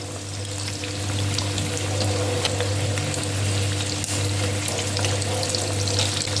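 Pork pickle sizzles steadily in a pan as its water cooks off, a close, loud and continuous frying hiss with no talk.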